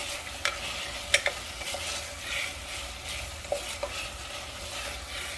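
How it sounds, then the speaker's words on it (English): Steady crackling sizzle of vegetables frying in Szechuan sauce in a pan, with occasional light clinks and scrapes of stirring, close and moderately loud. "our vegetables are nice, sizzling in our sauce"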